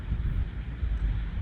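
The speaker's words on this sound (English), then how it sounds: "it's windy out here" Steady low wind rumbles and buffets across the microphone, constant and fairly loud, with no voices.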